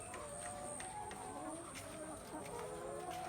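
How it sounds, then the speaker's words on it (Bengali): Frightened chickens squawk and cluck in short repeated cries, faint and somewhat distant in a quiet early-morning setting. "মুরগিগুলো আপনার কি জানি দেখে ডরের ঠেলা আপনার চিৎকার করা শুরু করছে"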